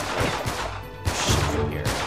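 Bursts of gunfire in the video game Uncharted 3, a couple of short loud volleys in quick succession, close and without talk.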